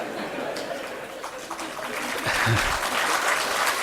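Audience at a hospital expansion launch event claps, a scattered patter that swells louder toward the end, with a voice talking over it.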